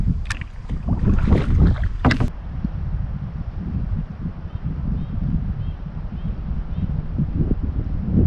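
A canoe drifts on a river in Algonquin Park, Canada, with soft water lapping and steady wind rumble on the microphone. A few hollow knocks against the hull come near the start.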